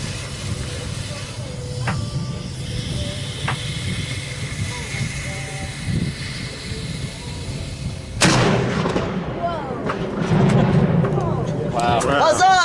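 A six-pounder carronade fires aboard a tall ship: a single loud, booming blast erupts after a stretch of quiet, followed by a lingering rumble and excited voices.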